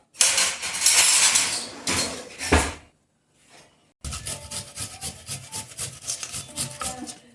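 Ginger being crushed for aloo paratha in a home kitchen, a dense rasping, rubbing grind that runs for about three seconds, pauses, then gives way to rhythmic scraping and clinking of utensils, all close and with no talking.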